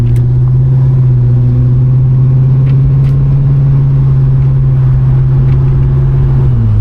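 A 1969 Pontiac LeMans convertible accelerates hard, its engine holding a steady, loud low rumble for several seconds with a slight drop in pitch near the end, heard close and without talk.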